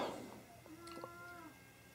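A goat bleats once outside its pen, a short wavering cry at moderate distance with quiet background.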